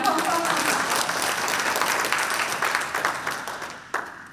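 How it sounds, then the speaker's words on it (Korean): An audience at a lecture seminar gives a round of applause, steady clapping at moderate level that gradually fades over a few seconds, with one sharp clap near the end. "박수 한번 주세요"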